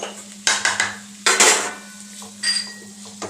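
Cooked hyacinth beans (avarekalu) tipped into a pan, giving a few short clattering scrapes and knocks of metal cookware and utensil, close and fairly loud, in separate bursts with quiet gaps between.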